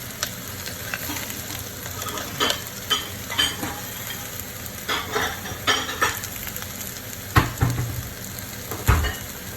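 Spiced barramundi fillets sear in a single pan with tomatoes, lemon and scallions, a steady close sizzle broken by repeated sharp clinks and scrapes of a utensil against the pan.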